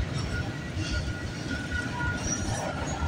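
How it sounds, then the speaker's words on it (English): A freight train hauling loaded auto racks rolls past at speed at Bartlett Avenue in Toronto, a steady close rumble of wheels and cars with faint squealing, continuous throughout. "Now this train is really motoring."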